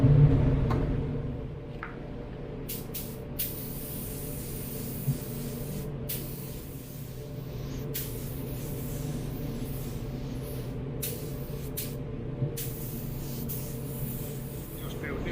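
Iwata LPH80 spray gun laying paint onto a car bumper, a steady close hissing spray running for many seconds, broken into bursts by brief trigger pauses, with faint talk underneath.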